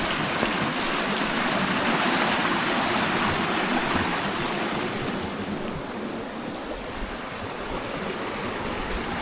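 Water rushes steadily beside a canal lock, a loud, constant broadband roar with no voices and no breaks.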